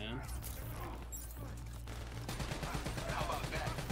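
Gunfire in Call of Duty: Black Ops III amid a low rumbling background: scattered shots and short bursts, partly under a voice.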